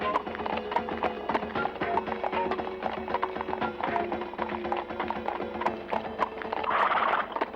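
A horse clip-clops steadily up a climb, rapid repeated hoof strikes filling the whole stretch close and loud, with a dense busy background throughout.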